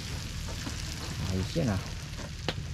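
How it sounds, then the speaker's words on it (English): Food sizzling in a pan on a camp stove at a Colorado River campsite, a steady frying hiss beneath a brief spoken comment and a few utensil clicks. "Sizzling."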